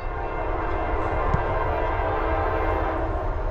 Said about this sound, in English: Second train of the day.